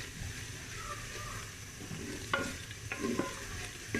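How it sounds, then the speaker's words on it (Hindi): Two medium finely chopped onions frying in half a cup of oil, a steady close sizzle with occasional stirring scrapes and clinks of a spoon against the pan, no talking. "जिनको मैंने बारीक बारीक काट के और हाफ़ कप ऑयल में उनको फ्राई कर रही"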